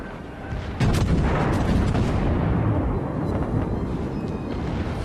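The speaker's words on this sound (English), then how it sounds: "we got 2 hits with our primary guns" Naval main-battery guns fire in World of Warships from a Cleveland-class cruiser engaging the Kaiser: a heavy, rumbling artillery blast that rolls on with a long booming tail, loud and close, with no talk over it.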